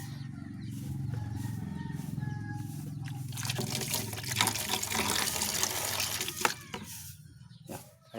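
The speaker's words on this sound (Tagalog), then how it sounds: "Dahil lalagyan natin itong timba ng tubig." Water from a tap pours into a bucket at a backyard chicken coop, starting partway through as a loud, steady rush after quieter rustling.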